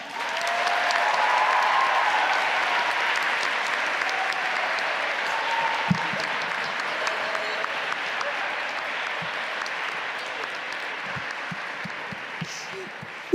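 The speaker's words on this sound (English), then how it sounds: "give these 4 precious girls the loudest round of applause" An audience in a hall at a Model UN closing ceremony claps loudly and steadily, swelling early and then holding a sustained round of applause with a few scattered louder claps.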